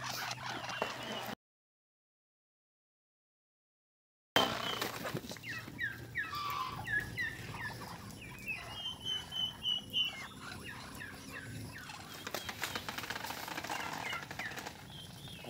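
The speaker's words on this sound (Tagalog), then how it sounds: "ito na yung mga alaga namin, mga pato." Faint quacking from ducks, with clucking from a group of fowl, rises and falls in a quiet outdoor farm setting, with a brief silent gap near the start.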